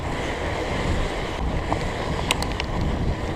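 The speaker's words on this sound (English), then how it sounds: "Alright, water crossing again, this time reverse direction." Surly Moonlander fat bike riding through a water crossing at night in wind and rain: steady rushing splash and sloshing water over heavy wind noise, with a few sharper splashes near the end.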